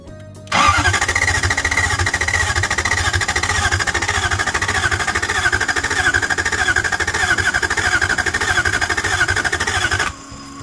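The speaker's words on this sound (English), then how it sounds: "the engine is finally back together, and now we're gonna crank it up" A Toyota 1UZ V8 swapped into a Celica RA64 cranks on the starter without firing, a steady, loud, pulsing churn that runs unbroken for about ten seconds before cutting off.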